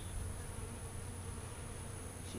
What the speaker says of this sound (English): So there's our winter bees.